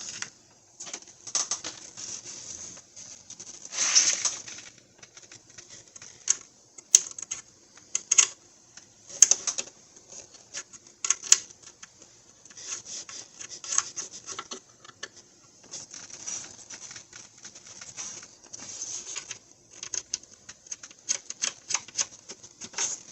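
Nuts on the oil filter housing of a 2015 Chrysler Town & Country being tightened with a ratchet, soft irregular clicking and scraping close by at low volume, without speech.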